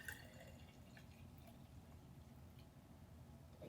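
Filtered water is poured onto a freshly repotted houseplant, making quiet soft drips and trickles into the soil, close up and faint.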